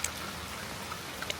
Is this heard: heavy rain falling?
yes